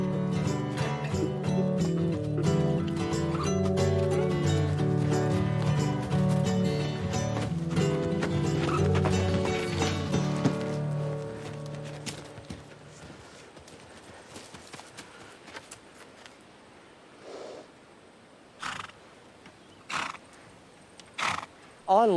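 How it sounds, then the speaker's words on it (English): Wild horses running in an Australian national park, hooves clip-clopping under loud music that fades out, leaving a few scattered hoof and snort sounds near the end. "In Simo's opinion, a lame wild horse needs no doctoring. Just regular running exercise will soon see it right."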